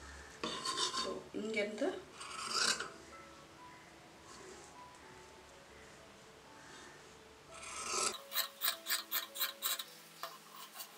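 Scissors cut the back piece of a blouse from fabric with scraping, rasping strokes, then finish with a quick run of crisp, evenly spaced snips. The cutting is close and moderately loud, with a brief spoken word.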